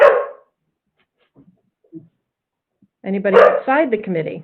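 A dog barks once at the start, a short sharp bark heard at home during an online committee meeting, followed by silence and then someone speaking.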